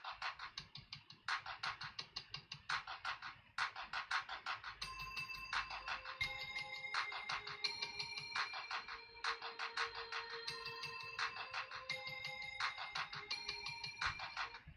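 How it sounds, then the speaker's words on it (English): The well-known Cisco phone system hold music, a bright electronic melody of repeated plucked and chiming notes with a steady pulsing rhythm, playing alone and continuously at moderate volume. "that's a very famous hold music that was in the Cisco system, so you probably heard that on the phone at some point."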